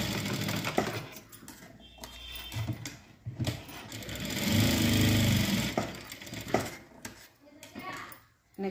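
Sewing machine stitching a blouse in a short steady run near the middle, mixed with handling clatter and surrounding room noise.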